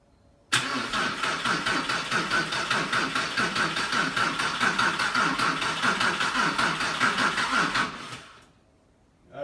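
A Porsche 911 of the 996 generation, unstarted for over four years and on a weak battery, cranks over steadily for about eight seconds with a rapid, even rhythmic chugging at close range. It fails to catch and stops.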